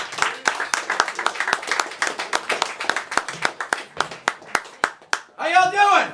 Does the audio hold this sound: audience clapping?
yes